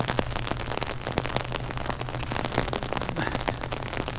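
Steady rain patters densely on surfaces outdoors near a field, a close, continuous wash of drops with scattered sharper hits.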